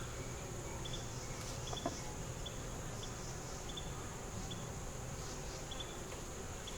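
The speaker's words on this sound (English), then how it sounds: "Take the bees off so you don't squish them." Honeybees around an opened hive box hum in a steady low drone with occasional nearer buzzes passing by, faint and continuous beneath a soft outdoor background.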